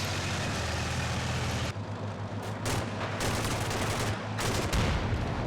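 Tank gunfire in the Combat Mission: Cold War strategy game, a return shot in a battle where missiles and TOW launchers are in play, heard as dense continuous rumble and blasts with several sharp loud reports near the end.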